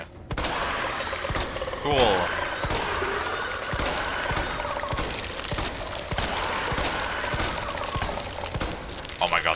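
Grenade blasts in the Resident Evil 2 Remake, several sharp bursts with crackling debris and shattering, spread through a busy fight, with a brief spoken word in the middle.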